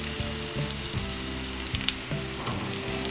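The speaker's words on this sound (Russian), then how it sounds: "Выкладываем наши рулетики на сковородку. Со всех сторон обжариваем слегка." Chicken rolls stuffed with cottage cheese and garlic frying in a pan, a steady close sizzle with a few light stirring touches, continuous and alone.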